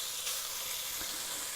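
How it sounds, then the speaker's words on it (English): A steady hiss and sizzle of bacon frying in a pan for venison chili, soft and continuous with faint crackles, no voices. "Let's start frying some bacon."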